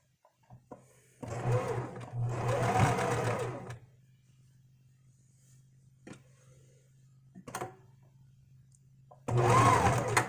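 A sewing machine runs a straight stitch and then a reverse stitch in a few loud, close bursts of rapid whirring. Quiet pauses and small clicks fall between the runs, and nobody speaks.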